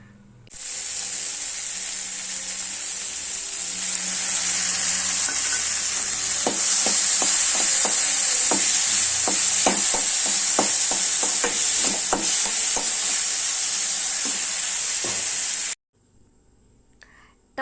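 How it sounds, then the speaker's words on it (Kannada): Tempering ingredients frying in hot oil in a pan for carrot chitranna, a steady loud sizzle with repeated metallic clinks of a spoon stirring, cutting off abruptly near the end. "1-2 ನಿಮಿಷ ಹುರಿದ್ಕೊಳ್ಬೇಕು."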